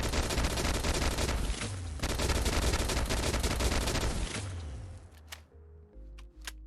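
Institute Gauss rifle with automatic receiver in Fallout 4 firing a dense, rapid stream of heavy, beefy shots for about five seconds, then cutting off into a brief metallic tail and quiet clicks.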